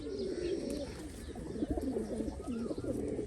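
Birds nesting in a date palm call in soft repeated cooing phrases with light chirps, moderately near over a faint outdoor hum.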